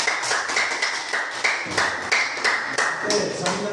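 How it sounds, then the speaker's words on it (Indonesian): A classroom of students clapping for a presenting group, with sharp uneven claps close by and some scattered voices mixed in. "tepuk tangan untuk kelompok 3 dulu"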